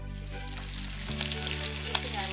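Fish frying in hot oil in an uncrowded pan, a steady loud sizzle that fills the whole moment with no one talking.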